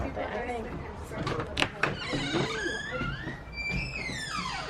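A squeaky door in an old house swings open, drawing out high creaking squeals as people talk nearby.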